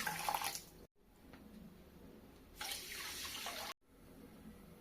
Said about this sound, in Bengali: 1 কাপ চিনির জন্য এখানে 2 কাপ পানি দিয়ে দেব।